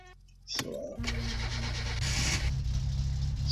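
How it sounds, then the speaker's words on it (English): A car in the game My Summer Car cranks and starts, a short whirring crank giving way to a steady low engine idle that carries on loudly to the end, running cold. "start up my car."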